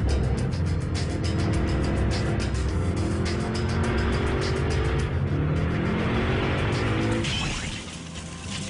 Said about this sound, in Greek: Σε λίγο θα έρθει το αυτοκίνητο.